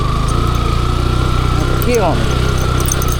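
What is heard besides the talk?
motorcycle engine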